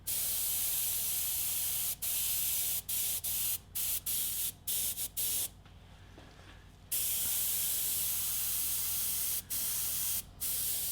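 An Iwata HPA airbrush spraying paint, a close airy hiss in repeated bursts broken by short pauses and one longer gap, with no one speaking.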